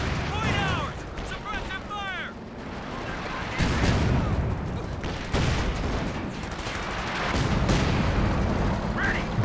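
Artillery barrage from Scott guns in Company of Heroes 2, a series of heavy booming impacts and crackling bursts over a battlefield din, with a commentator talking over the explosions.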